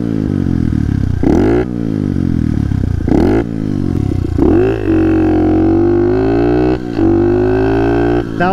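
A pit bike engine revs hard through a third-gear wheelie, loud and close. The pitch climbs and drops again several times, with brief gear-shift dips between sustained high-revving stretches.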